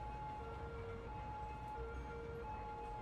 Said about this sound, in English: Here, ambulance is going.